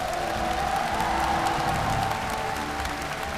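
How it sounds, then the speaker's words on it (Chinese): A studio audience at the Masked Singer China stage show applauds in a full, continuous wash of clapping that holds steady throughout, with faint crowd noise mixed in. "如果现场的朋友们，你们特别支持这个决定的话，"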